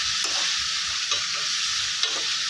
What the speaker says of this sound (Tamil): இப்போ இந்த சட்னிக்கு தேவையான உப்பு சேர்த்துக்கிட்டு நல்லா வதக்கி விட்டிங்கன்னா சீக்கிரமாக வதங்கிடும்